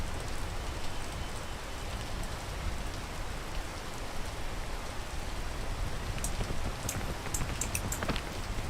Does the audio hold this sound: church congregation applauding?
no